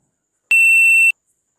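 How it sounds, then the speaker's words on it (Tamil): Multimeter continuity test beep, a single clean, loud, high-pitched electronic tone lasting just over half a second, alone in silence. "ஸோ இந்த மாதிரி எனக்கு கரெக்டாக பீப் சவுண்ட் கேட்டுது."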